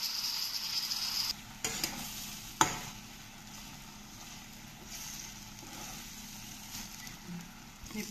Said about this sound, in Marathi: आता हे जे वांगे आहेत हे आपण यात थोडेसे फ्राय करून घेऊया